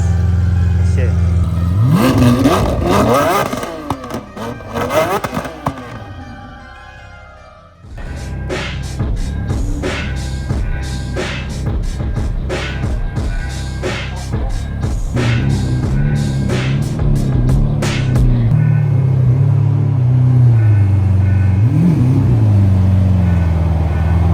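At a motor fest, a Lamborghini Urus, a Lamborghini Aventador and a BMW M4 rev their engines hard, with loud, sharp blips and sustained roars, sometimes overlapping, close by amid crowd noise and people talking.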